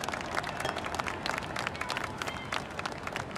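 Dense applause from a crowd in the video game Hitman: World of Assassination, Sapienza level, a steady wash of clapping with scattered sharper claps, continuous throughout.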